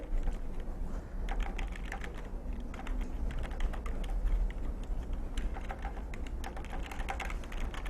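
Someone types steadily on a computer keyboard, with rapid close key clicks in irregular bursts and an occasional firmer Enter press over a low room hum, and no one speaks.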